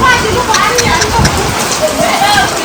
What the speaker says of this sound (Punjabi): ਜਿਹੜੇ ਹਿਸਾਬ ਨਾਲ ਮੈਂ ਮੀਂਹ ਦੇਖ ਰਿਹਾ